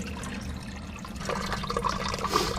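A sump pump pulls water out through a discharge pipe, giving a steady rushing, gurgling flow that grows louder and splashier partway through, with no talking.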